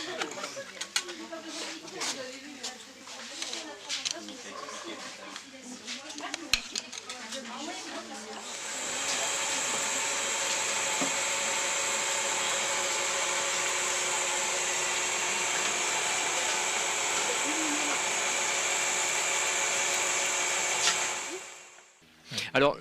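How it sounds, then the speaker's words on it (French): A soap extruder with a screw pushes soap out in a soap workshop on the Île de Ré. A steady, loud mechanical whir runs for about twelve seconds and then winds down. Voices and clatter come before it. "l'extrudeuse a donc une vis sans fin pour sortir les produits"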